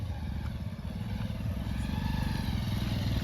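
A motorcycle engine running nearby with a steady, rapid low putter and clatter, continuous and fairly loud with no voices over it.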